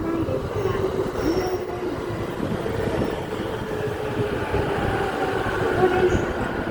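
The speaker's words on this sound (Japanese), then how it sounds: "まもなく1番線に各駅停車蘇我行きが参ります。" JR Musashino Line E231 series train rolling into Minami-Funabashi station, a steady close rumble of wheels on rail with faint squeal and a station announcement sounding over it.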